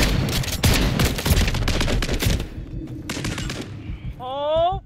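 Video game shotguns fire in a rapid, dense string of loud blasts in a one-on-one shotgun-only match, then stop and give way to a short warbling tone.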